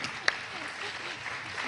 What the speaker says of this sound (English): now I would invite your applause